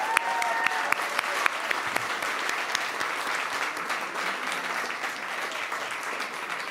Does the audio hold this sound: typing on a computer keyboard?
no